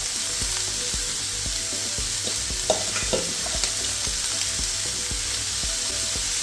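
Onion, carrot, cabbage and leeks stir-fry for Jaffna-style mutton kottu, with a continuous loud sizzle and the repeated clatter and scrape of a metal spatula stirring the pan.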